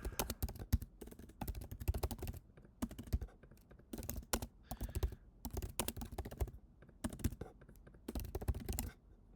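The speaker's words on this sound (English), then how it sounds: "I wish there's a way not having to type this out." Rapid bursts of typing on a computer keyboard while entering code for a data frame, the keys clattering steadily and close in several dense runs separated by short pauses.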